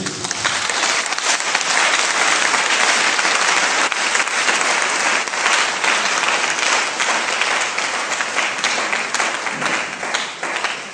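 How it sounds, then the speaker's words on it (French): A church congregation gives loud, sustained applause to acclaim the Lord, a dense continuous roar of many hands clapping that stays strong throughout with a light crowd murmur mixed in. "on va acclamer le Seigneur un peu plus"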